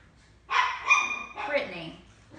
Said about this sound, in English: Sorry about our dogs. They're barking.